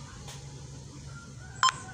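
A phone alarm app gives a brief electronic beep, a faint short tick early on and then a sharper tonal chirp near the end over quiet room hiss.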